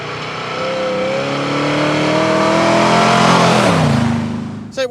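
An Iso Lele with a Ford Cleveland V8 accelerates hard, its loud engine note climbing steadily through the revs, dipping as it shifts, then climbing again before cutting off abruptly.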